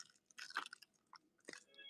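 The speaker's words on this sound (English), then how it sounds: "Chewing on a cough drop." Someone close by crunches and chews a cough drop, with a few sharp crunches spaced irregularly among softer wet chewing sounds. No one speaks.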